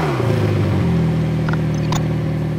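A 2018 McLaren 720S supercar sends out a loud, continuous exhaust note, a steady low engine drone that holds close and constant for a few seconds with a brief higher flutter near the end.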